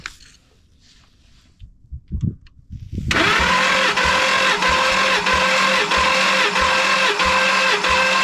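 A 2-valve motor bound for a 2000 SVT Lightning is cranked by the starter for a compression test, beginning after a few faint clicks and handling sounds. It then settles into a loud, steady, rhythmic whirring chug.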